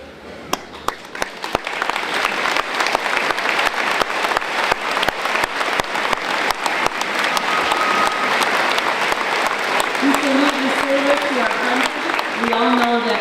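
A graduation ceremony audience applauds veterans in the crowd with loud, sustained clapping that continues unbroken for over ten seconds, with brief tonal sounds near the end.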